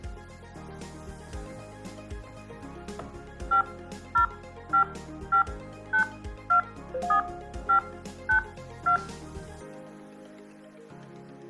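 A computer-generated sequence of DTMF touch-tone dialing tones: about ten evenly spaced, clean dual-tone beeps sounding one after another over soft background music, then silence.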